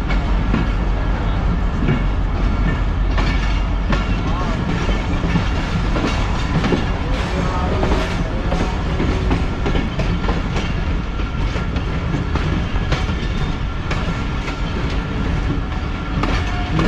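The Rehman Baba Express passenger train rolls along the tracks between Karachi and Bahawalpur, a loud, continuous rumble with steady clickety-clack wheel beats heard from on board.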